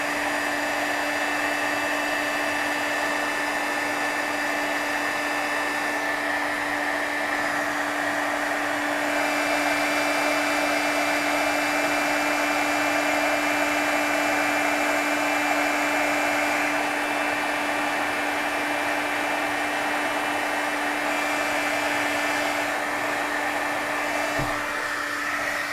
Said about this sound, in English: So if you're doing your heating gun, and if you do it this way, it could blow your dust.